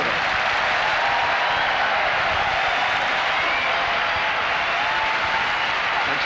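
A crowd applauding at a Wimbledon centre court tennis match, steady loud clapping that fills the whole stretch without letting up.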